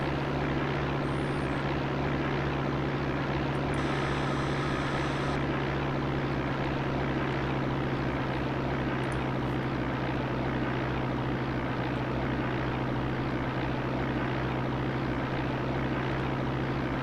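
Simulated light aircraft engine from the X-Plane 5 flight game drones steadily throughout, a constant even propeller hum with no breaks, moderately loud and alone.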